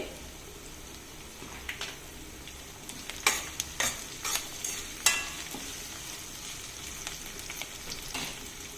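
Curry leaves and onion sizzle softly in a pan for a potato masala curry, a faint, steady frying hiss broken by several sharp spoon scrapes and clinks.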